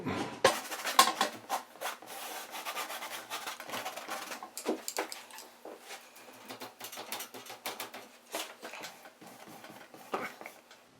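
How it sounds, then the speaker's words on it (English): Rag or cloth rubbing paint onto a wooden table surface in repeated strokes, a dry scuffing rasp that comes close and fairly loud at first and then settles into a steady back-and-forth rhythm, with no talking. "rub that out a little bit and then add some white"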